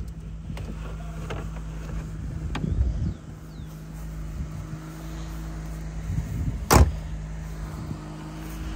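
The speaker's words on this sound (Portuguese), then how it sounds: "E dá pra ver como o motor é suave" Opel Ascona convertible with its engine idling smoothly, a low steady hum close by with a couple of brief clunks and a short mechanical whir, no talk.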